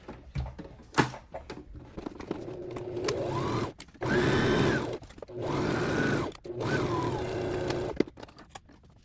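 Sewing machine running blue thread along a jacket seam with a 5/8 inch allowance, three steady bursts of motor whir with brief pauses and handling clicks between them, close and fairly loud.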